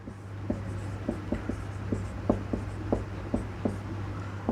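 Writing on a board during a Hindi-language lesson on local self-government: a steady run of short, scratchy strokes with brief pauses, close and fairly quiet over a constant low hum, with no talking.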